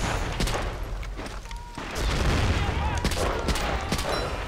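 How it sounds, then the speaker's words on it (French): Rapid bursts of video game gunfire and explosions, with a howitzer firing from a hilltop, crackle densely and loudly through the whole stretch with brief quieter gaps, a voice faintly mixed in underneath. "Faire attention à ces tirs."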